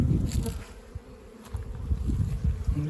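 Honeybees buzz densely around newly acquired black hives outdoors during a brood flight, a steady close swarm drone with individual bees whizzing past the microphone.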